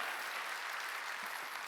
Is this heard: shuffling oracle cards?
no